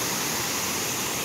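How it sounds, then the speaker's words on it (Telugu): Steady broadband rush of Gandahathi waterfall in Gajapathi district, Odisha, a continuous hiss-like roar of falling water, fairly close and uniform, heard alone with no voices. "ఇదంతా గండహతి వాటర్ఫాల్స్"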